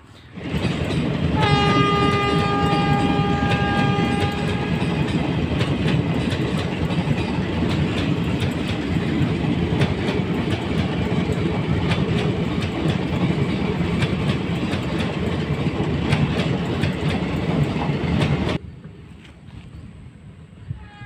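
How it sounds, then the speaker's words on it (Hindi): A train rolls through a railway station in India, a loud close continuous roar of wheels and cars with clattering rail clicks and a long horn blast early on, before the noise cuts off abruptly. "ट्रेन जा चुकी है"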